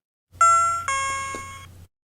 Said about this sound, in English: you can also set an hourly time signal of a ding-dong bell